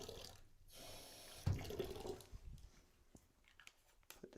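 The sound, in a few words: water being poured into a container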